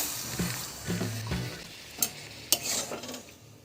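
Boiled potatoes, spices and a cup of water are stirred in a pan for potato curry, a spoon scraping and turning the mixture in soft strokes with a few sharper knocks against the pan, quiet and close.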